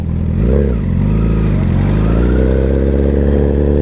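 A motorcycle engine idling close by in gear as the bike creeps forward, a loud low steady rumble with one slight rise in pitch near the start.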